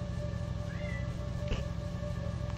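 A cat meows once or twice, fairly faint, over a steady electronic hum and background music; no talking.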